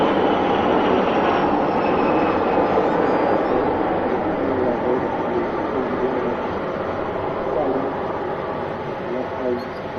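An Emirates Airbus A380 at Manchester Airport gives off a steady, loud broadband engine roar that fades slightly over ten seconds, with a commentator talking over it.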